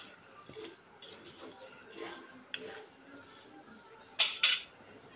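Peanuts dry-roasting in a pan over low heat are stirred continually, giving soft scraping and light clinks of a spoon against the pan, with two sharper metallic knocks near the end; a voice speaks faintly underneath.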